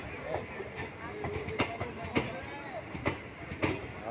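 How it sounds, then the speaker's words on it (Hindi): A crowded Indian Railways passenger train behind a WAP-4 electric locomotive runs on track between Kasganj and Bareilly City, giving a steady close rumble with repeated rhythmic clacks and thumps from the wheels throughout. "track sound"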